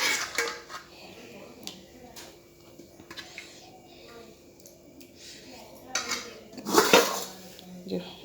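Khichuri with cauliflower, peas, carrots and beans is served out onto plates: metal spoons and dishes clink and scrape in scattered bursts, with a louder clatter near the end and some quiet voices in the background.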